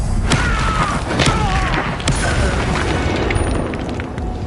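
A Confringo spell explosion in the video game Hogwarts Legacy: loud booming bursts with sharp pops and thuds, several impacts in quick succession over a rumbling, crackling tail.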